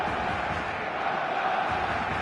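A stadium crowd in the football video game PES 2025 roars as a steady, distant wash of cheering and chanting, even and unbroken throughout.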